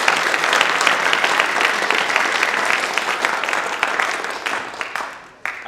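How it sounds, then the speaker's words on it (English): Loud, sustained clapping fills the room as a youth philanthropy event audience applauds the finalists and participants, a thick crowd-wide patter that thins and fades near the end. "I want to give one more round of applause"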